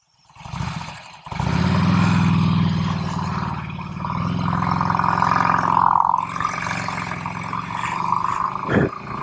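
A 2005 Harley-Davidson Road King motorcycle engine rumbles steadily while riding, a loud, continuous low growl that swells and eases with throttle, with a brief break near the start and a sharp rise near the end.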